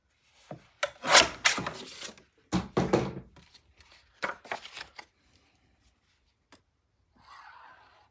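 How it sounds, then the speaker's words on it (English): Paper being trimmed for a Graphic 45 Deck the Halls 9 x 9 mini album page, heard as close, dry scraping and rubbing strokes in several bursts, followed by quieter handling and a soft shuffle near the end. "So I need to trim about 1/8 of an inch off on this one as well."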